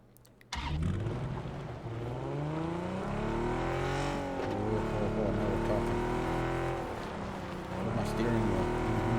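A car engine in the PUBG video game rumbles and revs steadily, rising in pitch as the vehicle accelerates, with a voice talking over it at times.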